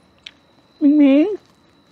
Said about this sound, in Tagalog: Parang may kuting ah.